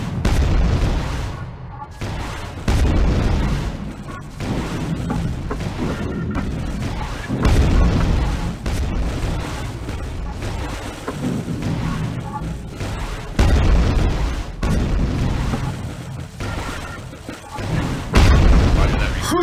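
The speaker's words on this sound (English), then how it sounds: "now it's time to activate this anti-aircraft gun reprogram" Repeated booming explosions from an anti-aircraft gun airstrike in the Quake 2: Ground Zero video game, loud and continuous with heavy low rumbling bursts and sharp blasts throughout, under ongoing game action.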